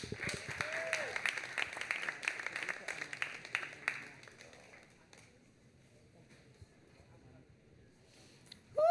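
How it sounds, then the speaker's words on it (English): Audience applause for a poet at a Boston poetry reading celebrating pride, dense clapping for about five seconds that thins and fades, with a burst of sound at the very end. "Can y'all give one more round of applause to Catherine T. Morris?"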